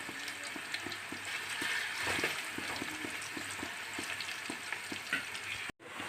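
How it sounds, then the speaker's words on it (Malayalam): Batches of fish deep-frying in hot oil while pickle is made, a continuous dense sizzle with regular spatula taps and light stirring, close and fairly loud, with a brief cut near the end. "ഈ എണ്ണ നല്ലപോലെ ഒന്ന് ചൂടാവണം നല്ലോണം ചൂടാവട്ടെ അപ്പോൾ നമുക്ക് മീൻ കുറേശ്ശെ വിട്ട് നമുക്കൊന്ന് വറുത്തിടും"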